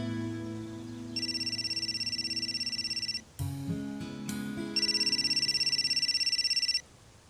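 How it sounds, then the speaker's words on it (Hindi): Telephone rings in a domestic drama scene, two long trilling bursts separated by a brief pause, steady and moderately near with no talk over them. "यार समन, कब से फोन कर रहा हूं, तुम्हारे यहाँ फोन सुनने का रिवाज नहीं है क्या?"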